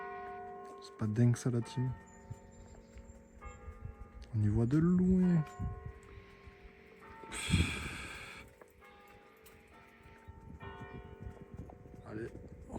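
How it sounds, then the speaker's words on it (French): Church bells ring in Corsica with sustained, overlapping tones running through the scene, while someone talks over them and a brief burst of noise cuts in partway. "On a le son des cloches et tout."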